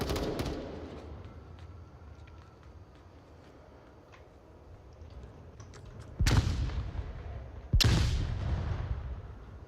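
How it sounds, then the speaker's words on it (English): Gunshots in a Templar Knights versus Aurora VR shooter match: a burst at the start, then a quieter stretch of scattered distant pops, followed by two loud, close reports a second or so apart. "A lot of shots going down."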